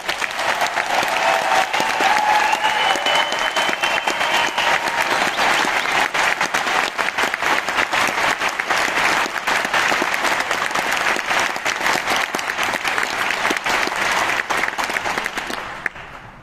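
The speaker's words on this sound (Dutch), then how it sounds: "Graag wil ik een heel groot applaus voor onze regisseur Mark Sander" Dense, sustained applause from a large audience at a Dutch gathering honoring a director, loud and continuous for about sixteen seconds before cutting off abruptly.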